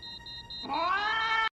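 An orange cat in Baymax animation lets out one loud, rising, drawn-out meow close to the listener, following a steady electronic tone and ending abruptly.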